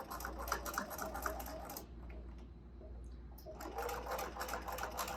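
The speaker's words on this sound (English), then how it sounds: "So I'm going to back stitch there." A sewing machine back-stitching a fabric mask, its needle chattering in fast, steady bursts that pause briefly in the middle and then resume, close and moderately quiet over a low hum.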